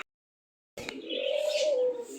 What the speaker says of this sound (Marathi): ये कबूतर है, पिजन से